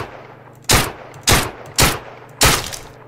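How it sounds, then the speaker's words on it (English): Four loud gunshots in a video game, fired one by one at a steady pace of about one every half second, over a low constant background hum. "think I'll just shoot this guy in the back"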